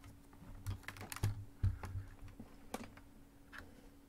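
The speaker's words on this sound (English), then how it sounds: "So I have a very loud keyboard. I got a proper gaming keyboard." Fast, irregular clacking of keys on a loud gaming keyboard, with sharp individual strokes over a faint steady hum and no voices.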